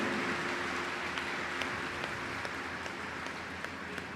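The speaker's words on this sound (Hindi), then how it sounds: "सभी एक दूसरे के उत्साहवर्धन में तालियों की गड़गड़ाहट कर रहे हैं।" Sustained applause from an audience at a Hindu spiritual satsang gathering in Delhi NCR, a steady dense wash of clapping at moderate distance with no voices over it.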